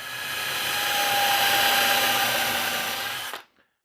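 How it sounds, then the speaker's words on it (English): A power drill pilots countersink holes in a wooden board with a loud, close, steady high whine for about three and a half seconds, then cuts off sharply into near silence. "I'm going to countersink these holes. I'm just going to pilot them."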